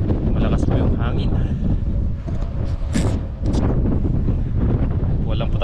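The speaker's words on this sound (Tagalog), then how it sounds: "malakas po yung hangin" Strong wind outdoors on overcast fishing water, loud gusting buffeting that batters the microphone continuously with rumbling surges, while someone talks through it.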